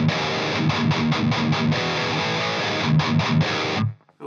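Electric guitar through an EVH 5150 III amp with a Tube Screamer, playing a loud distorted riff of chugging palm-muted bursts and sustained chords, alone, ending abruptly.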